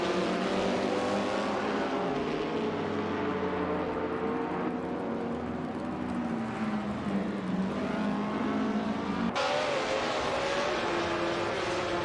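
1950s Formula 1 race cars on the Bridgehampton circuit, a dense continuous engine roar with shifting whining pitch as cars rev and pass, loud and unbroken.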